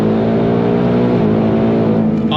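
Ford Mustang Dark Horse with the Hennessey H850 upgrade pulls hard on throttle, its engine roaring loud and steady with a dense, continuous drone close by, no one speaking.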